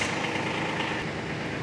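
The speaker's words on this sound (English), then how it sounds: "On this machine, I'm going to fire up the tractor." A Kubota tractor engine running at a steady idle, a continuous close mechanical hum and rattle with no pauses.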